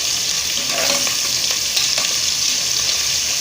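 Small onions with green chillies and curry leaves sautéing in a pan for a broad-bean biryani, giving a steady close sizzle broken by a few scraping stirs, with no talk.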